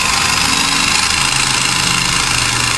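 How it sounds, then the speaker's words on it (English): A Xinlehong 9138 1:16 scale 4WD RC truggy's electric motor runs at full throttle, a loud, steady high-pitched whine with a buzzing rattle, close and continuous. "And that's full throttle, guys."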